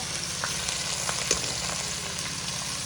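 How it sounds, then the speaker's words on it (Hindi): Ginger garlic paste frying with browned onions in a pan for chicken pulao, a steady close sizzle with faint scattered pops and light stirring. "ये अदरक लहसुन का पेस्ट थोड़ा सा भी मैं डालूंगी, थोड़ा सा फ्राई करूंगी इसको।"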